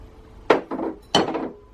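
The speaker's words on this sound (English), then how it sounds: "we are just going to scrape down the sides of our icing sugar bowl" Spatula scraping and tapping against the sides of a bowl of icing sugar while making gluten-, lactose- and yeast-free cupcakes, three distinct clinks and scrapes close by with short pauses between.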